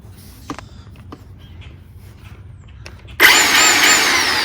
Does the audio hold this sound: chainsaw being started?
yes